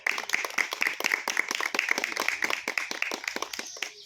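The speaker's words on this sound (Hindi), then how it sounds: "देखिए ताली होना चाहिए भाई।" An audience claps at a yoga demonstration in a small setting, a dense run of sharp hand claps over about four seconds, close and steady with faint voices mixed in.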